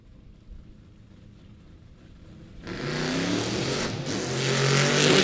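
Drag racing car launching down the strip at a Sick Week event, a quiet lead-in that bursts into a loud roaring engine, briefly dipping as the throttle is pedaled before surging again.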